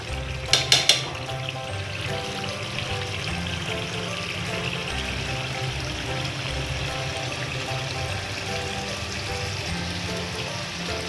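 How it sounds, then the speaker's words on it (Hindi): Mutton karahi fries over high heat in a wok, a steady close sizzle with watery bubbling running throughout, opened by a few sharp clinks near the start. "बस और 2-4 मिनट के लिए भूनूंगी इसको, कढ़ाई तैयार हो जाएगी।"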